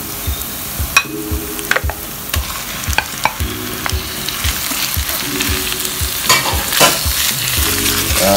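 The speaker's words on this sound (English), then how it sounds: "So I'm going to add the mince now." Mutton mince frying with browned onions for keema curry, a loud continuous sizzle broken by repeated clanks and scrapes of a spatula against the pan, no talking.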